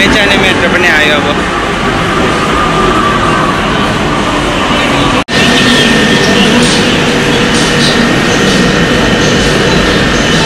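Kolkata metro train running, a steady loud rumble of wheels and carriage noise filling the whole stretch, with one brief dropout midway and faint voices in the background.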